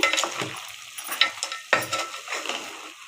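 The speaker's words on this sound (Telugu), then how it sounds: "ఇట్లా మటన్ ఉడికించేటప్పుడు మధ్య మధ్యలో కదుపుతూ ఉండండి" Mutton sizzles and fries in a pan while a utensil stirs it in quick scraping strokes, close and fairly loud, with no talking.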